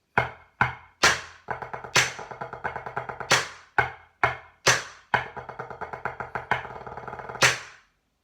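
A snare drum plays a four-bar phrase from the 2015 Blue Devils drum break, packed with flam taps. Sharp accented hits alternate with rapid, bouncing strokes in a driving rhythm, close and crisp, with no talk.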